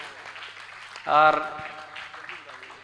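Brief loud burst of audience applause at a Hindi poetry recital, swelling for about a quarter second before fading back under a speaking voice.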